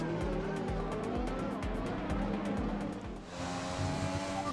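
Formula 1 race cars from the F1 2020 video game roar continuously, with a steady, pulsing engine note and repeated rhythmic thuds, then a brief dip and shift in tone near the end, with no speech.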